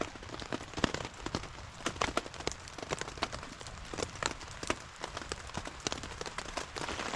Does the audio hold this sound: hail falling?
yes